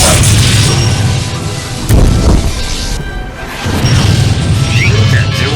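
A sci-fi ion cannon blast slams into a starship with loud crashing booms, one heavy impact landing midway through a sustained rumbling barrage of hits.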